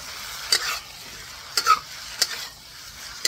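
Shrimp and scallion are stir-fried on a butane stove, with a few sharp spatula scrapes and clacks at uneven intervals over a faint, low sizzle.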